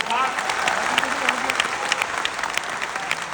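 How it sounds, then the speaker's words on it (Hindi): Loud, dense applause from a large crowd welcoming a madam and a chairman at an enrollment meeting, a steady wash of clapping throughout. "जोरदार तालियों से"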